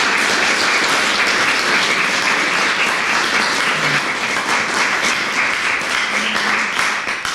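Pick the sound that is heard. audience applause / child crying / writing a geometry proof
audience applause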